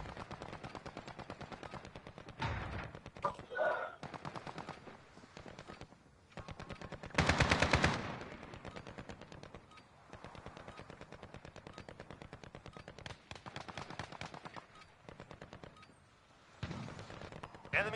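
AK rifle gunfire in the shooter game Warzone, with sustained rapid automatic bursts rattling through most of the stretch, peaking in a loud volley midway, with voices present under the shooting.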